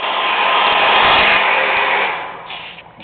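A handheld blow dryer roars steadily at close range as it dries a freshly sprayed coat of wall texture, a loud continuous whoosh that eases off slightly near the end.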